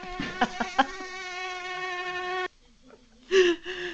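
A fly buzzing in a room, a steady thin drone lasting a couple of seconds, close and clear, that breaks off and then returns in a brief louder burst.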